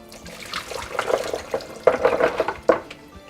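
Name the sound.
draining soaking liquid off almonds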